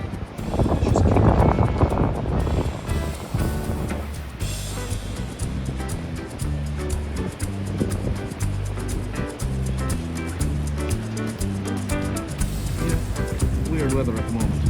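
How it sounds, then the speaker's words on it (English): Wind from a stiff breeze buffets the microphone steadily while waves wash and surge in the background at a harbour, with a person talking throughout and music-like tones underneath. "Good stiff breeze today."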